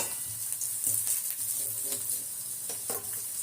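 Dried red chillies and a green chilli sizzle in hot oil in a pan for mint chutney, a soft, steady frying hiss with faint stirring taps now and then.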